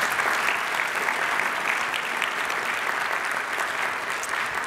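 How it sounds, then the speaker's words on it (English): A large audience at a keynote speech applauds sponsors and partners, a sustained, even roar of dense clapping, steady in loudness and unbroken by voices. "Can you please give them a round of applause?"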